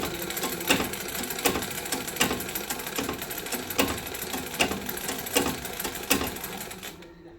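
A sewing machine stitching a fall onto a saree runs in a steady rapid whir, punctuated by regular louder clacks about once every three quarters of a second, then stops near the end; no one speaks.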